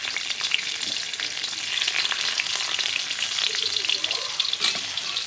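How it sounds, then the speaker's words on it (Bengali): Garlic fries in hot oil over a wood fire, filling the space with a dense, continuous crackling sizzle at close range and no voices. "তেলটা আমার গরম হয়ে গেছে, এখন এই রসুন দিয়ে দিলাম।"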